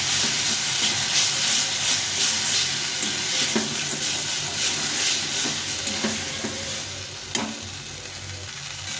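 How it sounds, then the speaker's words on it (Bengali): Fried potatoes simmer with a splash of water in a spiced masala, giving a continuous bright sizzle and bubbling hiss with occasional soft stirring clicks and scrapes, close and fairly loud, with no voices. "এখন আমি এর মধ্যে এই ভেজে রেখেছিলাম আলুটা দিয়ে দেবো। একটু জল দিয়ে ভালো করে কষিয়ে নেব আলুটা।"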